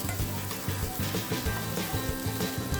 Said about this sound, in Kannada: ಆಮೇಲೆ ಇಟ್ಕೊಂಡಿದ್ದಂಥ ಈರುಳ್ಳಿನ ಕೂಡ ಹಾಕಿ ಇದನ್ನು ಕೂಡ ಸ್ವಲ್ಪ ಒಗ್ಗರಣೆಯಲ್ಲೇ ಹುರ್ಕೊಳ್ಳೋಣ.